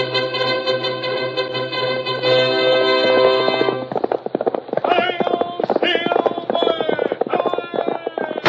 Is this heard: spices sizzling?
no